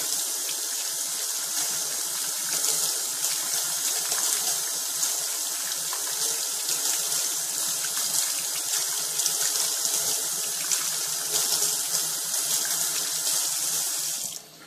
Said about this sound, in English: Just rinse it good.